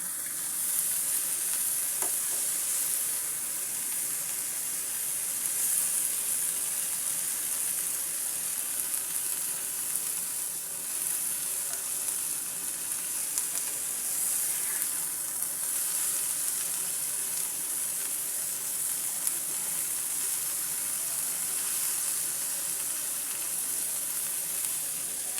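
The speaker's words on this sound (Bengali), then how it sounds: "আমি করলা ভাজিটাকে একটু নেড়ে দিলাম।" Bitter gourd and prawn fry sizzling in a pan as it is stirred, a long even hiss of frying with faint intermittent scrapes and clinks, no speech.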